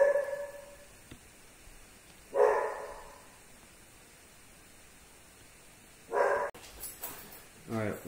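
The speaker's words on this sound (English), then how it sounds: "the dog's barking." A dog barks in two short bursts a few seconds apart, moderately close, against a quiet background hiss.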